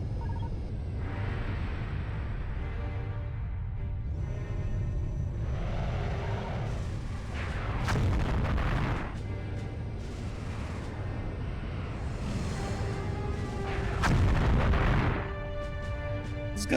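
Ship guns firing in Colony Wars: Vengeance, a space combat video game, with continuous booming blasts and rumbling bursts layered over a steady engine drone, swelling louder at a few moments.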